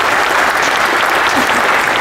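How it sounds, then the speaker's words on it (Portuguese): Audience at a coffee-industry lecture on deep soil preparation during water scarcity applauds, a steady dense wash of clapping that stays loud and even throughout without a break. "Mais uma salva de palmas para nós"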